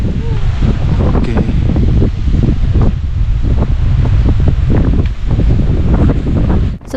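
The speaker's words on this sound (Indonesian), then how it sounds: "ternyata angin masih cukup kencang" Strong wind roars across an exposed mountain summit trail on Gunung Sumbing, a loud, buffeting rumble pressing hard on the microphone with gusty surges throughout.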